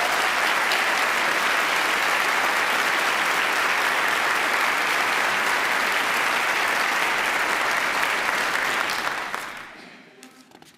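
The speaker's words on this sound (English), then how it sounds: "Please give them a round of applause." Audience applause at a 2024 city council inaugural ceremony, honoring the council president and departing members: dense, steady clapping from a large crowd that holds for about nine seconds, then fades out.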